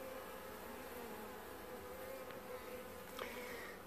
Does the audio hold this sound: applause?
no